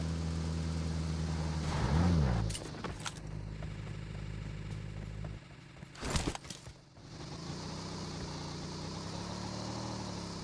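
A motorcycle engine in the PUBG Mobile video game drones at mid distance with a rising and falling pitch, briefly swelling and fading out, along with a couple of sharp impacts, and no voices.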